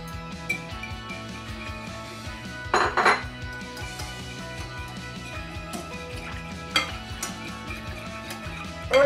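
Barbecue sauce and oil are whisked together in a bowl, with a utensil clinking and scraping against the sides in a continuous close-up rhythm, broken by a few louder clattering bursts.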